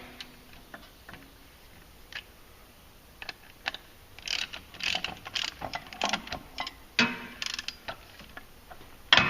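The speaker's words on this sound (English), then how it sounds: "just grab your torque wrench" A torque wrench clicks and ratchets while a Polaris Sportsman clutch bolt is torqued down during a clutch kit install, faint sparse ticks at first, then denser bursts of ratcheting toward the end, close and without speech.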